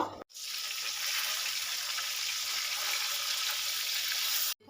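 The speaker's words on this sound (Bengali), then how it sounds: "এই তেলের মধ্যে মাছটা আমি হালকা বাদামি করে ভেজে নেব" Katla fish pieces frying in hot oil until lightly browned, a steady, even hiss and sizzle that continues unbroken for several seconds, close and moderate in level.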